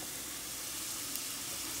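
Onion and chopped garlic frying in a pan give off a steady, dense sizzle that holds evenly throughout, close and moderately loud with no voices.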